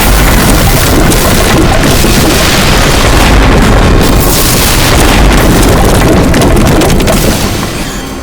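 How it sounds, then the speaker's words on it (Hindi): A bomb blast in a TV crime drama produces a loud, dense, sustained roaring rumble that fills the whole stretch and fades slightly at the end. "और ये हुआ धमाका"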